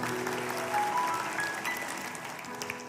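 Church congregation clapping during a sermon, a broad wash of applause that swells early and then tapers off, with faint tonal pings from instruments or feedback.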